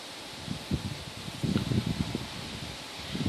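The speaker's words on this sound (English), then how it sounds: "I like the sound of the wind through the trees" Wind gusting through trees on a windy day, rustling leaves in soft swelling bursts over a steady breezy hiss, fairly faint and without any talk.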